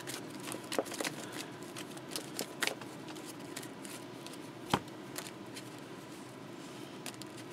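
Playing cards shuffled at a card game table, a papery riffling with quick, irregular snaps and a sharp crisp click partway through, close and fairly quiet, with no talk.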